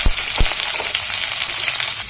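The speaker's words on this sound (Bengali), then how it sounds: "পেঁয়াজটা ভালো করে ভেজে নেব।" Chopped onions and whole mustard seeds frying in a pan, a steady bright sizzle with a couple of sharp pops near the start, close and uninterrupted with no talk.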